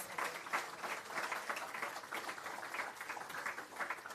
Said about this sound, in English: Another big round of applause for them, please